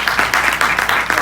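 A seminar crowd at a talk on earning money in travel claps briefly, a short burst of audience applause with loose rhythmic clapping, fairly close and loud.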